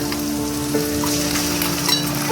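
Garlic paste frying in hot oil in a pan, a dense, continuous close sizzle with faint scrapes of a spoon stirring through it, and no one speaking.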